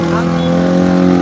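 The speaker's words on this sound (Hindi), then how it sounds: "आवाज़ बड़ी ज़्यादा है मोटरसाइकिलों की" Motorcycles rev loudly at a midnight independence day celebration, a dense, continuous engine roar close by that fills the scene without a break.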